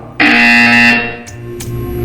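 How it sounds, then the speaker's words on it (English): A loud harsh buzzer from the video game Portal 2 blares for just under a second, then fades out, followed by a couple of faint clicks. "You will hear a buzzer."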